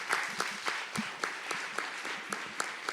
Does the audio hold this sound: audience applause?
yes